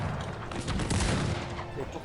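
Small cannons fire in a Cossacks 3 2v2v2 battle, a dense, continuous rumble of overlapping booms and gunfire at steady loudness, with a voice talking faintly underneath.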